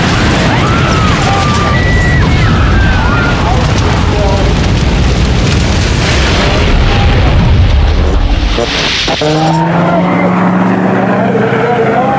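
The 3,000-horsepower engine of a burning Corsair fighter aircraft self-destructs at altitude and the plane crashes. A loud, sustained roaring rumble with heavy booms runs under a narrator's voice.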